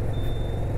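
Heavy road traffic rumble as a bus passes on a narrow single-lane road, low engine drone with a thin steady tonal whine over it, brief and close.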